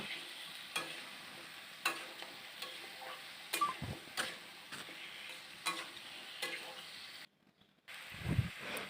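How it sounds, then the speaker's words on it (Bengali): Sliced potatoes and tomato are stirred with spices in a pan, giving a series of soft scraping knocks and faint sizzling, followed by a brief pause and a low thud near the end. "এবার আলু আর টমেটোটা ভালোভাবে মশলার সাথে মিশাই নিব"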